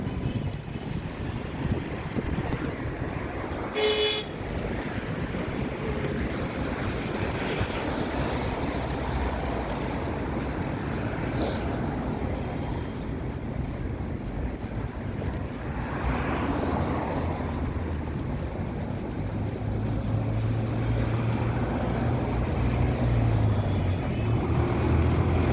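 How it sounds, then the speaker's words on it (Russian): Strong, gusting hurricane wind roars steadily against the microphone on a November outdoor walk, a broad continuous rush with surges toward the end. "Такой ветер сильный, бушует"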